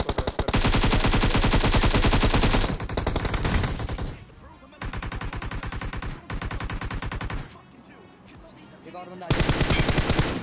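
Rapid automatic gunfire from BGMI gameplay, loud, dense bursts of shots that stop and start several times across the clip, with quieter in-game sounds in the gaps between bursts.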